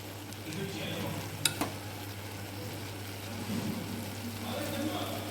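Flowers and green leaves frying in oil for a homemade herbal hair oil, a steady soft sizzle with light stirring scrapes and a couple of brief clinks, continuous and close.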